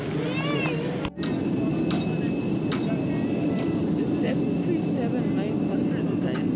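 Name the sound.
Boeing 737-900 aircraft cabin sound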